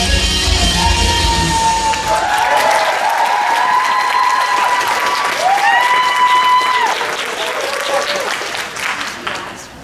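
At a cosplay masquerade convention, a crowd claps and cheers after skits, with whoops and shouts riding over loud applause that gradually thins toward the end.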